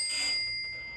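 Pressure bell and whistle on an Air Systems International SCBA air cart sounding as the pressure passes 1,000 PSI, a single short bright ringing tone with high sustained partials that fade quickly.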